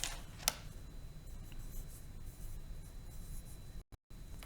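Pen or pencil writing by hand on paper while labeling shapes for a math lesson, a steady faint scratching that runs continuously for several seconds before cutting out near the end.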